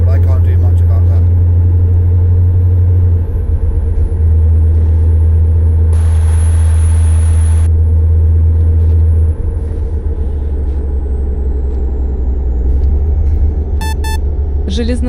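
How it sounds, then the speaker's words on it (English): A Scania truck engine in Euro Truck Simulator 2 drones as a loud, steady low rumble for the whole stretch, with a brief hiss partway through and a voice talking over it. "it's peaking just because of the truck's engine sound"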